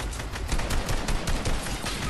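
Dense, continuous gunfire in a battle-royale squad shooter, a rapid sustained barrage of overlapping shots that stays loud and close for the whole stretch with no talk over it.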